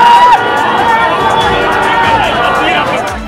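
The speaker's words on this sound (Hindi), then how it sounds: "ये भीड़ देखिए," A large crowd of Bihar people cheers for Pawan Singh at a Lok Sabha election gathering, a dense roar of shouts, whistles and chatter held loud and close throughout.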